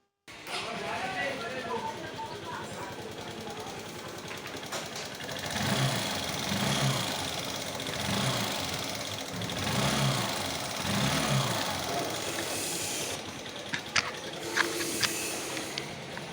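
A Honda SP Shine BS4 motorcycle engine runs at idle with rocker arm noise, a steady close mechanical hum and hiss carrying a rhythmic ticking pulse, with a few sharper clicks near the end.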